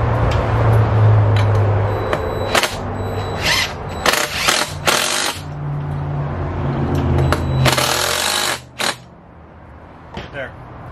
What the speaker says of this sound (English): Get a couple of screws started.